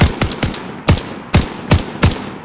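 Gunfire in the video game Warzone: seven sharp, loud shots in irregular bursts, some close together and others spaced apart, with no talk.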